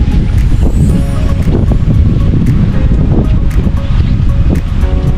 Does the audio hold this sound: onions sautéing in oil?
no